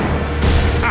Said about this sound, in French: Admire les feux d'artifice.